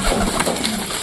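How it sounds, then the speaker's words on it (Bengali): Pigeons feeding on the ground coo close by, with soft, low, rounded calls repeating through a short stretch alongside faint rustling. "তো বন্ধুরা এখন সব কবুতর একে একে নামবে, দেখো সব কবুতর এখন খাচ্ছে কত সুন্দর করে"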